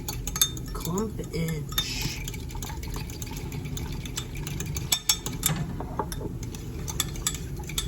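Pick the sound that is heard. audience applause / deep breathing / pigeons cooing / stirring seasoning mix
stirring seasoning mix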